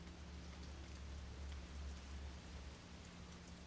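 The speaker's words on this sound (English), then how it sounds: "Sound of raindrops on the window echoes faintly." Rain patters on a window in the horror video game Fatal Frame: Maiden of Black Water, a faint, even hiss of drops over a low steady hum.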